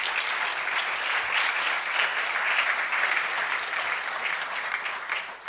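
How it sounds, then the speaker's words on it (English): A lecture audience gives a round of applause for a speaker, a dense, even wash of many hands clapping at moderate volume without a break. "So maybe a little round of applause for Sandy"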